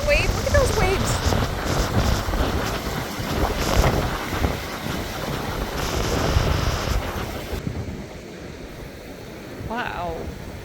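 Pacific Ocean waves washing onto a Baja beach, a steady broad surf roar mixed with wind buffeting the microphone, with a person talking over it and a dog nearby.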